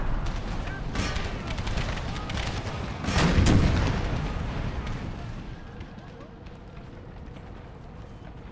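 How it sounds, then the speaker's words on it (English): Canister shot from howitzer artillery in the Empire: Total War Brothers vs. Brothers mod, loud booming blasts that swell around the middle of the battle and mix with the rumble of gunfire, then fade into quieter background battle noise. "Howitzers switch to canister shot."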